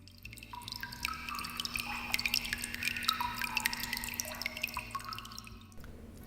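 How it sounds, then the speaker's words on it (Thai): Water dripping, separate drops plinking one after another in a quick, uneven rhythm, close by and on its own against a faint low hum, with no voices. "เสียงน้ำหยด"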